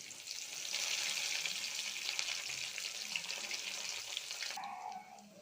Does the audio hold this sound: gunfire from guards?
no